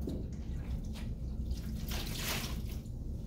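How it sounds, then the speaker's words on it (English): Tap water runs faintly into a sponge at a sink, a soft trickling with a brief louder gush partway through over low room noise. "I'm going to go right to the sink next to me here and grab some water"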